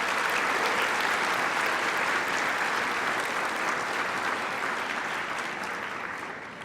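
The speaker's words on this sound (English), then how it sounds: "let's give them a round of applause" A large audience at a Humber College convocation ceremony claps in sustained, dense applause that fills the hall and fades slightly toward the end, with no voices standing out.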